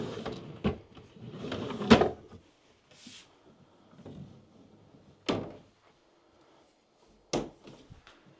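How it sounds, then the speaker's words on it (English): Sliding drawers on a rolling kitchen island are pulled and pushed, giving several sharp thunks and bumps spaced out over a few seconds, with softer rubbing and shuffling sounds in between. "we have 2 sliding drawers on this side"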